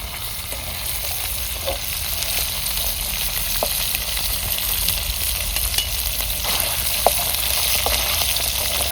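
Paneer fries in hot oil with a continuous, even sizzle and crackle, scattered small pops standing out over the steady hiss, with no one speaking.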